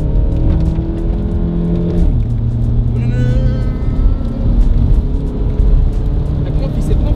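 A diesel TDI car accelerates in a cabin, its engine droning with rising and shifting revs under loud road rumble while people talk over it.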